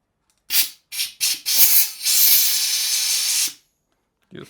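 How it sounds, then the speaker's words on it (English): Compressed air blows through a hose to clear debris during Toyota Supra intake manifold removal, several short hissing bursts followed by a longer sustained blast, close and loud, then silence and a brief final puff. "Oh, take some compressed air."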